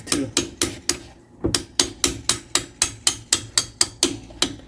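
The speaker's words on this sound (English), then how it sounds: "We're going to tap gently on this bolt," A hammer taps a bolt on a Sprinter van strut in a quick, even series of about fifteen sharp metallic knocks. Each tap is close and distinct, with one brief pause near the start.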